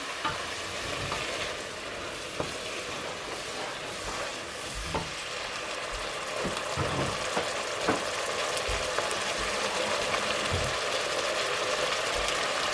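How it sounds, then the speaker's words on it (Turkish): A spoon stirs a tomato-paste mixture in a pan, with a sizzling, bubbling bed of frying underneath and scattered clinks against the pot. Water is added on top near the end, and the sound grows slightly fuller. "Şimdi bunu da karıştırayım su ilave ediyorum üstüne."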